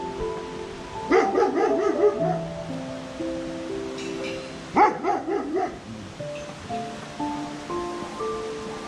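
A dog barks in two short bursts of several barks each, near and loud, with quieter sounds and a steady background hiss between.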